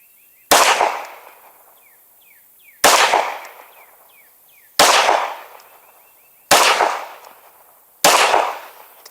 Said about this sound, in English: All right, that was 5 shots.